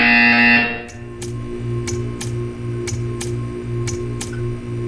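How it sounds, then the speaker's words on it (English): Right after a loud sustained tone cuts off, Portal 2 plays a steady run of crisp ticking pulses about twice per second over a low mechanical hum. "You will hear a buzzer."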